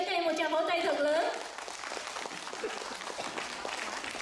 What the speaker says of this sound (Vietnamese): xin quý vị cho các em một tràng vỗ tay thật lớn